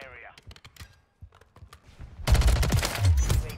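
Video game gunfire from Modern Warfare 3: a dense, loud burst of automatic shots erupts in the second half, following sparse scattered clicks and faint game sounds, with a player's voice talking over it.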